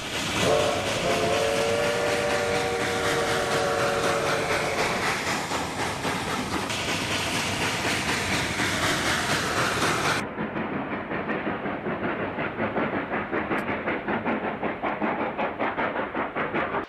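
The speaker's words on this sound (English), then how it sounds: "The train crosses Highway 17 again at Coxo." A Rio Grande narrow gauge train rumbles past near Highway 17 at Coxo with loud, continuous clatter of wheels and cars, and a whistle sounds during the first few seconds before the steady roar carries on.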